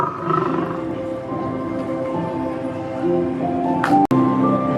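A roaring big-cat sound from the Maximus Sky Lion ride at LEGOLAND Windsor, a sustained loud growling roar over steady crowd and park ambience, ending in a sharp abrupt cutoff.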